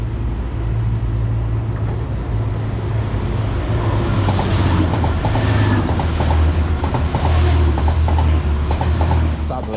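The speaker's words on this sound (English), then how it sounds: "Right on cue, here's a train passing through." A train rumbles steadily through a station in Sheffield's Lower Don Valley at close range, with continuous low roar and faint rhythmic clacking of wheels over the rails.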